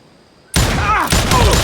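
Sudden burst of gunfire in Call of Juarez: Gunslinger, a loud close volley of overlapping shots erupting after near silence, with a second crack and ringing tails following.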